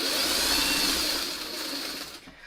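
A sewing machine stitching fabric pieces together for a posy pattern, a steady close whirring motor that runs loudly and then slows and trails off at the end.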